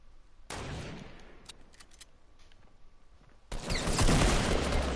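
Fortnite gunfire: a sharp burst of shots bursts in near the start, sparse cracks follow, then a loud sustained volley of rapid gunfire swells near the end of the game skirmish.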